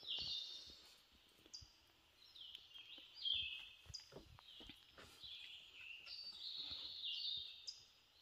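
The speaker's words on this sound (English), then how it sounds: "It's nice when you wake up in the morning and you hear the sounds. The sound of the birds." Several birds chirp and sing in quick, high repeated phrases, moderately near, with faint rustling and a quiet outdoor background in woods around a small cabin in Brevard, North Carolina.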